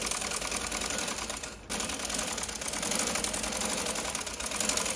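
A sewing machine stitching a trouser seam runs in a fast, even mechanical rattle, close and continuous, with one brief pause before it resumes.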